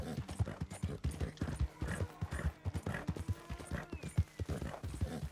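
A horse's hooves clip-clop at a steady walking rhythm in the game Red Dead Redemption 2, close and distinct, with faint tack sounds and no talk over it.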